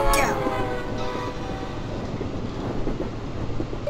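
A train in the video game Henry Stickmin rumbles past with a brief horn at the start, a steady rolling clatter continuing throughout, fairly loud and close.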